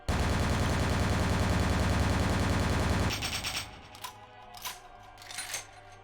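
Rapid, evenly spaced gunshots from a weapon in Vampire: The Masquerade - Bloodlines rattle loud and unbroken for about three seconds, then stop, leaving a few scattered clicks and softer impacts.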